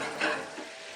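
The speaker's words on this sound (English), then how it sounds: "you can see the butter starting to foam up" Butter foaming and sizzling in a hot pan while eggs are cooked for a Yorkshire asparagus and hollandaise dish, a close, bright crackling hiss with a small surge partway through.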